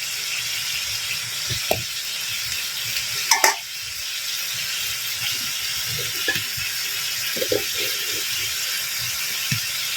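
Chicken pieces sizzle and hiss in hot oil in a pan for chicken biryani, a steady frying sizzle with occasional scrapes and clacks of a stirring spoon, close and alone without talk.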